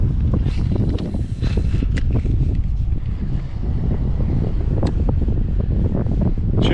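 Steady, loud wind roars and buffets across an open lake around a kayak during bass fishing, with broadband gusty rushing and microphone buffeting throughout, occasional small splashes and knocks, and no talk.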